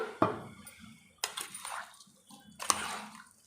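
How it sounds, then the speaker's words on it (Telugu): Water splashes into a pan of brinjal and dry fish curry in a few short pours, each a close splash that trails off into a trickle, with no one talking. "చూడండి ఫ్రెండ్స్ కొంచెం నీళ్ళు వేస్తున్నాను"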